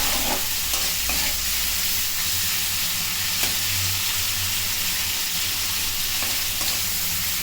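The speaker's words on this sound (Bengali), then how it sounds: "চিংড়ি মাছ বেশি ভাজা হবে না, অল্প ভাজতে হবে" Shrimp fry briefly in oil in a pan, making a steady dense sizzle with occasional soft knocks and scrapes from stirring throughout.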